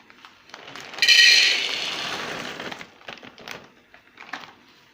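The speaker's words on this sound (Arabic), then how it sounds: "وهحطها في حلة اهي معايا" Dried white beans pour into a cooking pot in a loud rushing cascade, then thin out into scattered small clicks and rattles as the last beans settle.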